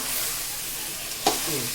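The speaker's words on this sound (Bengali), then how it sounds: "তাই এর ভিতরে আলু ছেড়ে দিলাম এবার আর একটু কষানো হবে" Mutton and potatoes sauté in a pan with a constant close sizzle, broken once by a brief louder scrape or stir near the end.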